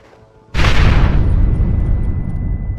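Explosive charges blow a gate in Red Dead Redemption 2: a single loud, sudden blast bursts out after a brief quiet, then rumbles and slowly decays into a long roaring tail.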